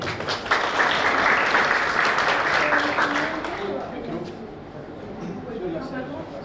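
An audience at a science talk contest breaks into applause that fills the first half strongly, then thins and fades as a voice starts speaking over the dying claps.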